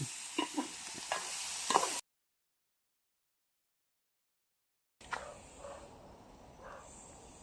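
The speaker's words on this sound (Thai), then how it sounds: "ผัดกระตายครับน้ำพริกคือหอมๆเลยครับ" Rabbit meat stir-fries with chili paste in a pan, with brisk scraping stirs over a soft sizzle in two short stretches separated by a few seconds of dead silence. The second stretch is quieter.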